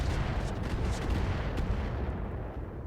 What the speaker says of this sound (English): there's those mortars going off